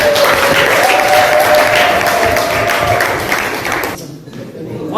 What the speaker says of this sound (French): Merci beaucoup pour applaudir.